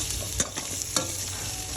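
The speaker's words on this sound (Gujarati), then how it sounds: "લસણ નાખશું." Garlic tossed into hot oil in a kadai for a paneer dish, frying with a low continuous sizzle broken by a few crisp spoon scrapes against the pan, close up and without speech.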